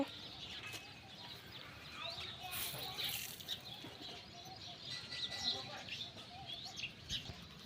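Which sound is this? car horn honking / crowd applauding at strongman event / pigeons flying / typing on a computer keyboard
pigeons flying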